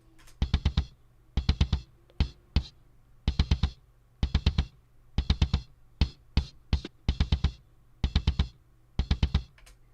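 A kick drum pattern, EQ-boosted at 3 kHz, repeats with sharp, clicky attacks on every hit, bright and snappy, played alone at moderate loudness.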